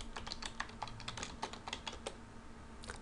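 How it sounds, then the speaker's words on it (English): Light clicking of typing on a computer keyboard while entering a spreadsheet formula, a quiet irregular patter of keystrokes over a steady low room hum, with no talk. "And I'm going to type in"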